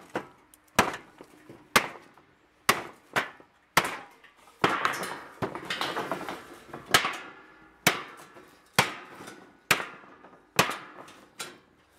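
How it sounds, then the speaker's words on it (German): A Juchten Bowie knife strikes repeatedly into 0.6 mm sheet steel, giving about a dozen sharp, close metallic chops with short ringing tails in an irregular rhythm, with no talking. "Der übelste Missbrauch, was man mit Messer machen kann, ist auf eine Stahlkante hochhauen, egal wie dünn sie ist."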